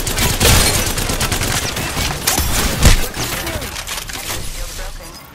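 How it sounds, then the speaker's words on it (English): Rapid bursts of gunfire from the video game Apex Legends crackle through the whole stretch, dense overlapping shots with a couple of louder peaks, loud and close in a busy firefight. "I'm gonna shoot."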